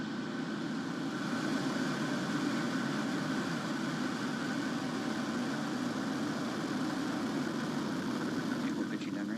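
Rocket engines at launch liftoff give off a continuous, dense, powerful roar that holds steady and loud throughout with no breaks.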